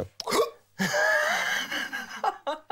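A voice imitates sharp, sudden hiccups, as a smoker hiccups while lighting a cigarette. Short vocal bursts are followed by a longer strained, wavering sound, then brief clipped noises at the end.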